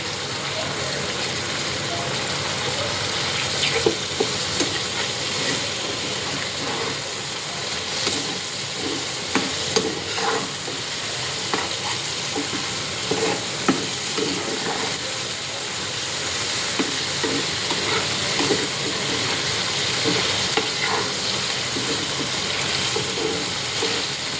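Onions frying in oil in a pan for a rohu fish belly dish, a continuous broadband sizzle with occasional clicks of stirring and faint talk beneath.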